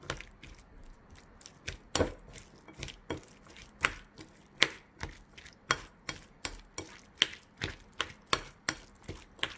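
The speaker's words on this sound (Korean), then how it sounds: "이제 골고루 섞어줄게요." Guacamole being mixed in a bowl with a little honey and pepper added, giving a steady run of sharp, close tapping and scraping strokes, roughly two per second, with no talk.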